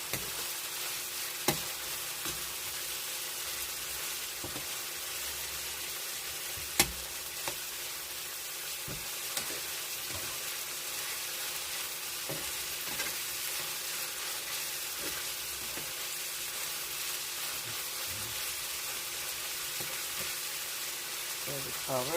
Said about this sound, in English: We're gonna fry the meat first.